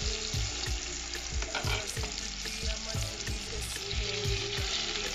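Softened onions frying in a pan as tomatoes go in, a loud steady sizzle broken by regular scraping stirs, close and without talk.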